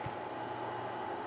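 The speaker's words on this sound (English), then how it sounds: "The sound you hear is the fan and the external drive there." An ASUS Eee PC laptop fan and an external optical drive run together, making a faint, steady whirring hiss with no breaks.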